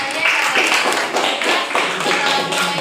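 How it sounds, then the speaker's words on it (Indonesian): A class applauds a student group after their presentation, steady dense clapping for about three seconds at fairly loud level, with some voices mixed in. "kita berikan aplaus untuk kelompok 2"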